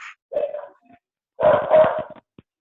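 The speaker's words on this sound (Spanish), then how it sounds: "El que tiene el perro que apague su micrófono." A dog barks over an open microphone during a virtual class. It gives a short yip, then after a pause a loud burst of several rapid barks, followed by a faint final sound. No speech is heard.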